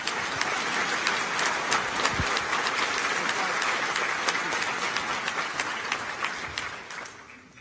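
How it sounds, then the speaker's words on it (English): Sustained applause from an audience at a law enforcement awards ceremony, honoring scholarship winners; steady, dense clapping fills the whole stretch, loud and close, fading slightly at the end. "Ladies and gentlemen, one final applause for all our scholarship winners today"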